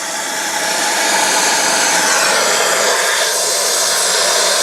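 A torch hisses with a steady, broad, close roar while fusion welding a pipe joint, alone and unbroken throughout.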